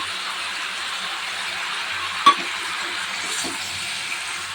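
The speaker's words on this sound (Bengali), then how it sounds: "এখন আমি এই মশলাটা দিয়ে দেবো যেটা বেটে রেখেছিলাম সর্ষে আদা জিরে আর কাঁচা লঙ্কা" A ground spice paste of mustard, ginger, cumin and green chilli fries in a pan with a steady, even sizzle that runs throughout, broken once by a single soft knock.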